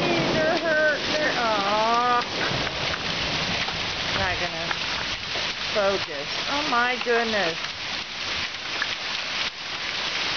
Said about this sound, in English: That is not snow, that is hail.